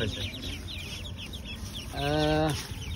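A duckling quacks in a short burst over a busy outdoor livestock market background in Assam, with faint voices and other birds nearby.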